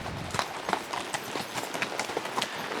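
A horse on a mountain trail at a horse camping site walks with a steady clip-clop, close hoof strikes falling in an even rhythm over a quiet background.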